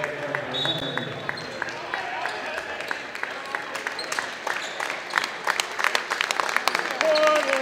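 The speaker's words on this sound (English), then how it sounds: "a nice round of applause" A college men's basketball crowd claps and cheers in a gym as players head to the bench, with scattered sharp claps building toward the end and an announcer's voice over the noise.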